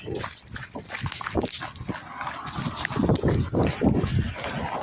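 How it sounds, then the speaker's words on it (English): A dog barks and whimpers in short bursts outdoors along a London-to-Brighton walking route, moderately close amid steady street and ambient noise, with no talking. "That's the dog."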